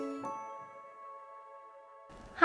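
A notification bell rings once in a bright, clean tone that holds and slowly decays over about two seconds, quiet and isolated with no voices.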